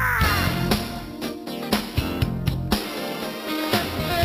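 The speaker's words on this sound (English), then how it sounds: "that bird always lifts my spirits" A crow caws repeatedly outdoors, several harsh calls spaced about half a second apart, fairly loud and clear with no talking.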